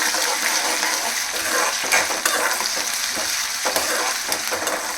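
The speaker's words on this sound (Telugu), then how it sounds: "ఈ అల్లం వెల్లుల్లిపాయ పేస్ట్ కూడా పచ్చివాసన పోయే వరకు ఫ్రై చేసుకోవాలి." Ginger garlic paste fries in a hot pan, crackling and sizzling steadily up close, with repeated stirring scrapes and small spattering pops.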